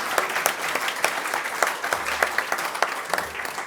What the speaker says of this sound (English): let's applaud the live streaming crew as well.